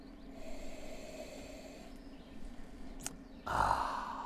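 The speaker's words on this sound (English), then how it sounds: "we take it up a fourth time for a big sniff" A single long, forceful nasal inhale over a glass of Sheringham Seaside gin, close to the microphone, ending in a louder breathy rush after a few quieter preliminary breaths.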